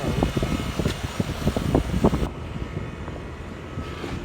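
Trane XE1000 heat pump, an older unit, running with a steady mechanical fan roar and irregular low thumping knocks, heard up close before the sound drops to a quieter, smoother hum.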